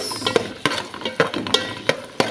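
Potatoes and carrots being sautéed in a pan with onion, garlic, ginger and tomato, a soft sizzle broken by several sharp scraping stirs of a utensil against the pan at a loose, irregular rhythm.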